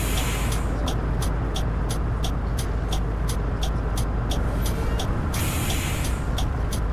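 Steady loud engine rumble and road noise of a tour bus driving in Tourist Bus Simulator, continuous throughout with a regular ticking indicator-like click pattern running over it.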